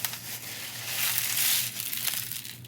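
Sea glass pours from a bag onto a tray: a steady rattling, crunching cascade of glass pieces clinking together, close and fairly loud for nearly three seconds, swelling in the middle.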